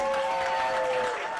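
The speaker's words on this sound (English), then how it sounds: "put your hands together for Mr. Jeff Hendricks" A comedy club audience claps and cheers as comedian Jeff Hendricks is welcomed onstage, dense steady applause filling the room with a faint voice beneath it.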